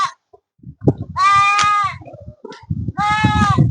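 A goat bleats twice nearby, two loud wavering calls separated by a short gap, over rustling and thumping handling noise in a windy outdoor spot.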